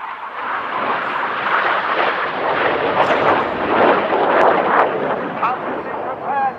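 Aerobatic display jets at an air show roar past as they turn hard toward each other, a loud, broad rushing engine noise that swells and holds before fading slightly.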